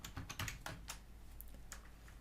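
Typing on a computer keyboard while entering a variable value in OnShape CAD software, a few quick soft key clicks in uneven bursts, close and fairly quiet.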